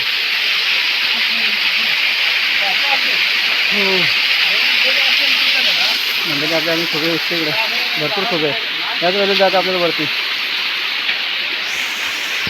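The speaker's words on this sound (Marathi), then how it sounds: "मस्त धबधबा आहे" A forest waterfall pours with a constant broad rushing hiss, loud and close, while people talk over it for several seconds.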